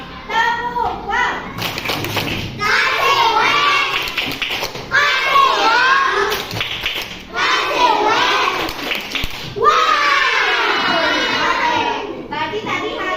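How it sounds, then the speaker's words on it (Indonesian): Schoolchildren in a classroom clap in rhythmic bursts while chanting the 'tepuk wow' clapping chant, their high voices loud and close, with short pauses between each round of claps and chanting. "Jadi coba kita tepuk wow lagi."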